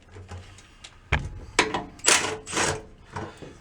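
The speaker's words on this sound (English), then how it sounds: "Let's get this access panel off of here." A motor access panel being pried off a bucket truck, with a few close clunks, rattles and scraping metal bursts in quick succession, no speech.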